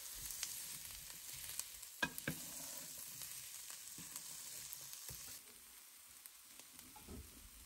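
Red bell pepper sautéing with ginger and garlic in a pan for a tofu Thai red curry: a steady close sizzle and hiss of frying, with occasional clicks and scrapes from stirring, and no talk.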